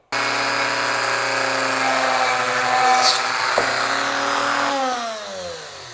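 A small high-pitched Dremel rotary tool whines steadily for several seconds drilling through a jelly bean, then slows and winds down near the end.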